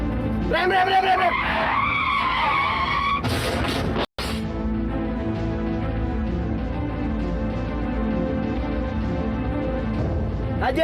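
A car brakes hard with loud screeching tire squeals and skidding during a chase scene, with a brief cutout partway through and then a rumbling engine and road noise afterward.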